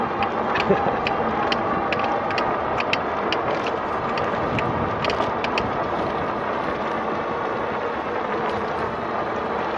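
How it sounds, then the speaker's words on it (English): Steady rhythmic clicking from a cracked crank bearing on a RadRover e-bike repeats with each pedal stroke over continuous road and wind noise while riding. "Sounds to me like a bearing or something cracked. Where you turn the crankshaft in that area."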